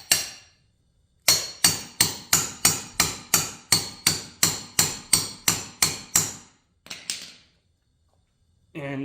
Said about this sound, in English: That's kind of hard to hammer in